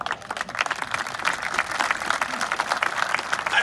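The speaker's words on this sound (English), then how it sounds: "Why are you clapping?" A camp audience claps in a steady, moderately loud round of applause that swells and continues, with scattered voices mixed in.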